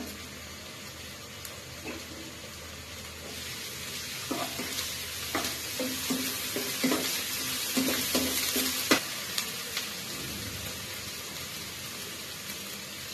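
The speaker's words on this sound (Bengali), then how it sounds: "আদা রসুনটা আমার ভাজা ভাজা হয়ে গিয়েছে।" Ginger and garlic paste sizzling in hot oil with beef liver in a home kitchen, a steady frying hiss with intermittent stirring scrapes and clinks of a utensil against the pan.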